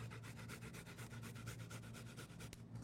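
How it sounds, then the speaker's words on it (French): Garlic grated by hand on a rasp-style grater, a steady run of rapid scraping strokes, close and fairly quiet, with no talking. "On va gratter."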